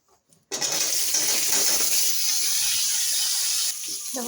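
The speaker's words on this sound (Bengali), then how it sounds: "আমি আলু সেদ্ধ করে রেখে দিয়েছি ছুলে রেখেছি এটাকে এখন একটু ভেজে নেব হালকা হলুদ লবণ দিয়ে" Boiled, peeled potatoes fry in hot oil in a kadai with a little turmeric and salt, giving a loud, steady sizzle that starts abruptly and carries on, easing slightly toward the end.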